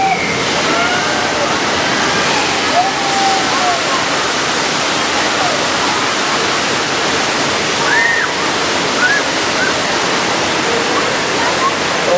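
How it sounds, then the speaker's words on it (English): Rushing flood water from a staged burst water main roars loudly and continuously on a nighttime studio tour ride, with faint squeals and crowd noise mixed into the torrent. "Oh no, the water main broke."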